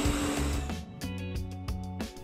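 A food processor whirs as it blends sweet potatoes, tahini and olive oil, a steady motorized hum with rhythmic pulsing thumps, moderately loud and close.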